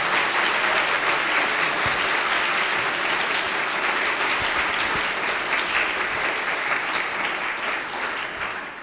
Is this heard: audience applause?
yes